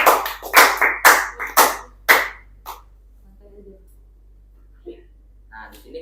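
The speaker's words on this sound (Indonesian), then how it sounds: "Tepuk tangannya mana?" Classroom clapping comes as about six sharp, rhythmic claps in quick succession, loud and close, followed by near silence with a few faint background sounds.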